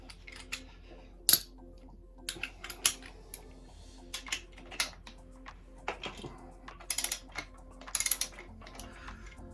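Soft, irregular ratchet clicks while a 19mm nut is loosened on an Aprilia RS 125 suspension, faint and close, with a low steady hum beneath and no speech.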